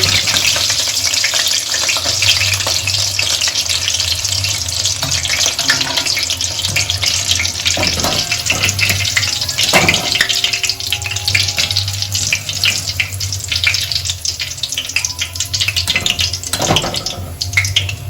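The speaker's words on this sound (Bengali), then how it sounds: "এইভাবে আমি বাদ বাকি চিকেনগুলো ভেজে তুলে নেব" Chicken pieces for restaurant-style chilli chicken fry in oil over medium-low heat, giving a loud, steady, dense sizzle with crackles that runs unbroken throughout.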